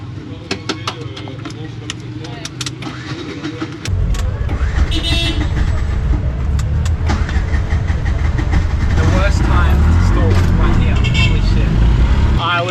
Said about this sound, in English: barely hear my little lawnmower engine working in the back there